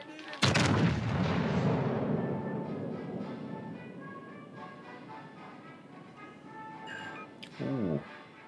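Warship guns in World of Warships: Legends fire a heavy, booming salvo that rolls out into a long, fading rumble. Quieter mechanical tones and a second, shorter burst follow near the end.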